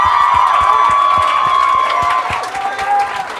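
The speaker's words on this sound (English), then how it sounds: "Give a big round of applause." Crowd applause and cheering fill the room at the end of a round at a poetry slam, steady clapping with a few shouts mixed in, loud and close throughout.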